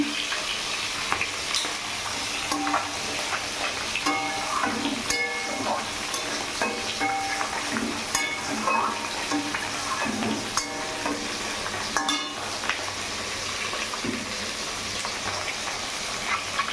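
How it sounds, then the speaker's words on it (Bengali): Spice masala with coriander powder sizzles steadily in a pan for a katla fish curry, while scraping stirring strokes recur throughout at close range. "মশলাটাকে ভালো করে কষিয়ে নেব"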